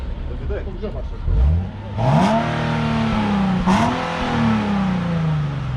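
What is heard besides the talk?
sports car engine revving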